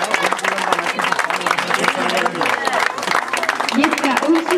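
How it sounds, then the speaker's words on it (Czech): An audience applauds young karting racers at a prize ceremony. A dense, continuous patter of clapping runs throughout, mixed with a voice talking over it. "Ještě jednou potlesk, povzbuďme mladé začínající."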